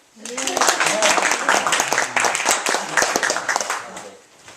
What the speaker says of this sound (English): Should we give it a clap?